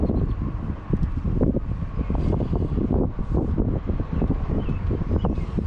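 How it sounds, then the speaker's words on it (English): Steady wind gusting outdoors beside a small fishing pond, a constant low rumble with buffeting against the microphone throughout. "Got a little bit of wind blowing."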